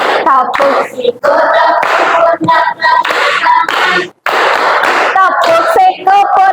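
Students in an Indonesian classroom chant a rhythmic icebreaker game and tap their elbows and hands in time, so sharp slaps sound in under the loud group singing.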